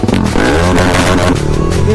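A superbike with a full-system exhaust revs loudly and steadily nearby, its rough, rising engine note filling the scene with clattery mechanical texture.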